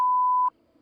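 A single steady censor beep, loud and close, covers a swear word for about half a second, then cuts off to a faint room hush.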